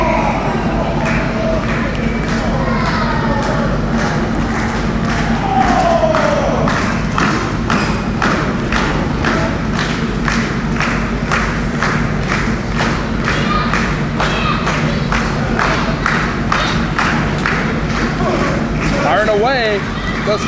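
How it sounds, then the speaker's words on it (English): Forearm strikes land in a wrestling ring as a steady series of dull thuds. Crowd noise fills the background, and a commentator talks over the hits throughout. "Firing away, those forearm strikes."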